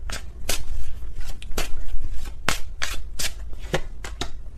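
Tarot cards being shuffled by hand close up, a rapid series of crisp riffling and slapping bursts repeating at an uneven rhythm with no talk.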